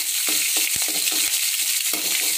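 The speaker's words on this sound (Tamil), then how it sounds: "இப்போ நம்ம எடுத்து வச்சுருக்க பூண்டு அப்படியே முழுசாக போட்டுக்கலாம்." Whole garlic cloves sautéing in hot oil for a dal rice dish: a steady, loud sizzle broken by a few scraping stirs of a spoon against the pan.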